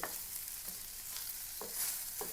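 Fish fries in a pan with a steady, quiet sizzle, broken by a few scraping knocks as the pieces are turned over.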